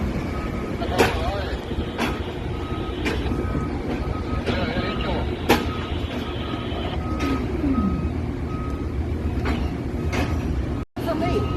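A large vehicle's reversing alarm beeps at a regular pace near a train station, with a heavy engine rumbling underneath and brief air-brake hisses.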